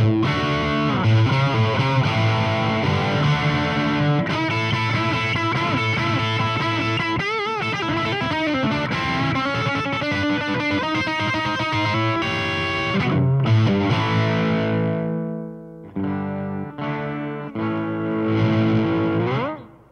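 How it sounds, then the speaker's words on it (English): Electric guitar played through a cranked Blackstar HT-1R valve amp, giving a saturated power-tube distortion: sustained chords and riffs, loud and continuous, easing into quieter choppy phrases near the end. "So you get that power tube distortion type vibe."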